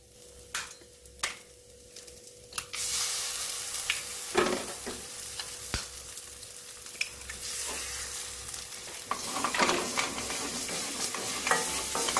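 Egg being stirred into drumstick leaf thoran in a hot pan, with a steady sizzle and repeated scraping strokes of a spoon throughout, close and fairly loud.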